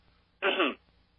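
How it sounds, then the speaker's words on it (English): A single short throat clearing, close and fairly loud, against a quiet background. "Had to clear my throat there."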